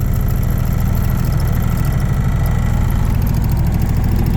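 The engine of a 1981 HMV Freeway three-wheeled motorcycle car idles loud and close, a steady, even low throb that runs unbroken throughout.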